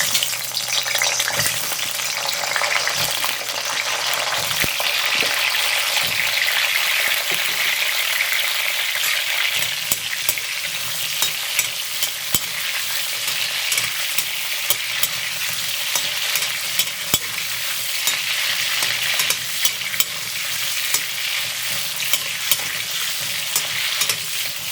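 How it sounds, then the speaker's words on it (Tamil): Eggplant pieces fry in hot oil for a Tamil ennai kathirikai kulambu, a loud, steady sizzle with occasional scraping and stirring clicks from a utensil in the pan. "இந்த எண்ணெய் சூடானோன்னு இந்த கத்திரிக்காயை வந்து இந்த எண்ணெயில் போட்டு வதக்கணும்."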